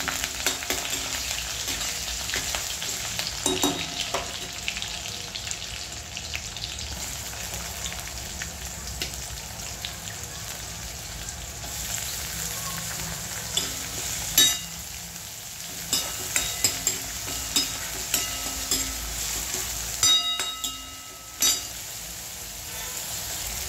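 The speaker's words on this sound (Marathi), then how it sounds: "तेलामध्ये थोडंसं आपण त्याला छानपैकी परतून घेऊया।" Sukat, dried fish, frying in oil with cumin in a pan, giving a steady soft sizzle with occasional clinks and scrapes of stirring, moderately quiet and with no talk.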